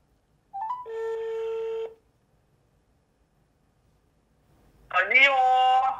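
A single outgoing ring tone on a phone call sounds for about a second, followed by a pause, then a voice answers up close.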